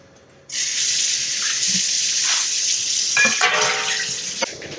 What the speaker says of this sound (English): So I'm going to do the dishes and then get started on that.